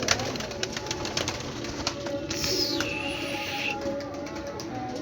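Pigeons at a loft kept for sale coo softly against a steady background hum, with a faint high whistle-like tone partway through; no talking.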